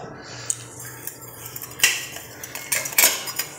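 A spoon stirring sugar into payesh in a pot, irregular metallic clinks and scrapes against the pot's sides, close and fairly loud, with no talking.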